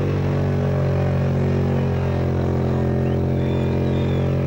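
A burnout car at a Summernats burnout competition idles and revs lightly as a steady, loud low engine drone that holds throughout, with a faint crowd-like wash behind it.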